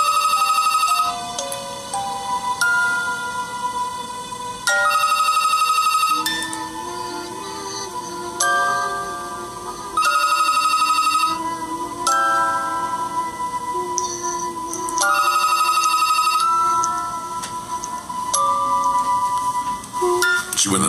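A telephone rings on a radio call-in line, its electronic ringtone repeating in loud bursts every few seconds, with ringing tones continuing underneath between bursts.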